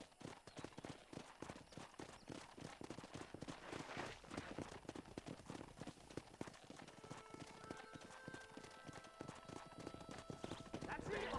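Horse hooves gallop in a steady rapid clip-clop through a Red Dead Redemption ride, loud and continuous throughout, with game character voices talking over the hoofbeats and a brief whinny.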